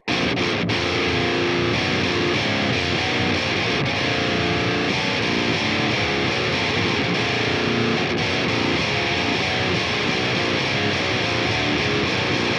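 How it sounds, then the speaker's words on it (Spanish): A metalcore track plays loud and dense, with harsh screamed vocals, fast pounding drums and distorted guitar feedback filling the whole stretch without a break. "No hay armonía ninguna, es todo gritos, batería acelerada y un acople de fondo"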